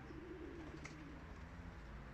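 Pigeons, a batch of twenty newly bought birds from Garwolin being released, give a brief soft coo amid a steady low rumble of outdoor background noise.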